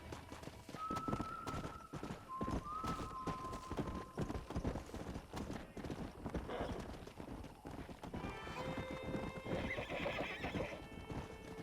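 In Red Dead Redemption, a wild horse being tamed trots with steady, close clip-clop hoofbeats. Several drawn-out whinnies ring out early and again near the end, over a continuous game soundscape.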